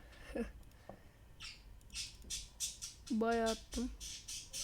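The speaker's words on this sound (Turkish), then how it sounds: "arkadan kuş sesi geliyorsa" A bird squawks in the background with a short run of rapid, harsh calls, while a person talks and brief chirps come and go.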